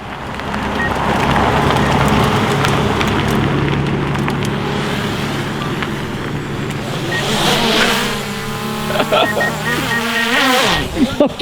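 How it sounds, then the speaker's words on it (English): A DJI drone buzzes loudly nearby, its high insect-like whine holding steady, then shifting pitch as it manoeuvres, with a car engine rumbling underneath. "that is how to fly a DJI drone"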